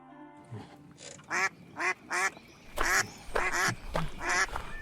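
Ducks quack repeatedly in quick, harsh bursts, several calls overlapping close by, with a brief low murmur at the start.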